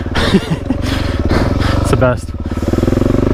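A Suzuki DRZ dirt bike engine idles close by on a trail ride, a steady, rapid thumping throb running under someone speaking throughout.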